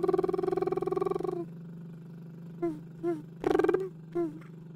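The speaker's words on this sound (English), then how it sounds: "we're just going to hold out a lip trill at a comfortable pitch" A voice holds a buzzing lip trill at a comfortable pitch during feminine voice training warm-ups. The long, steady trill cuts off, then several short, fainter trill bursts follow with quiet gaps between them.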